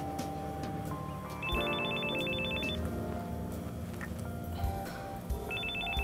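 A telephone rings in repeated electronic bursts at close range, one long trill followed by the start of another, over a steady low background hum with no talking.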